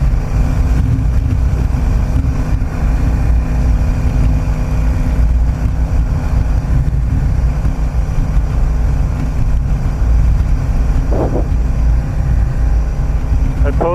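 Wind roars steadily across a motorcycle helmet mic on a ride from Lincoln to Roca. The dull, buffeting rumble is loud and continuous and drowns out other sound.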